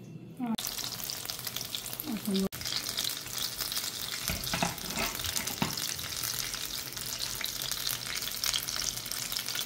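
Food fries in a pan over low heat, giving a steady, close crackling sizzle with occasional stirring scrapes and brief watery splashes on top.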